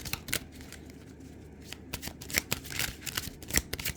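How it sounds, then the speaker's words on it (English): Thick, sturdy Clairvoyant Oracle cards by Belinda Grace are shuffled by hand, giving close, crisp riffles and flicks in quick irregular bursts, with no talking. "let me just have a quick shuffle"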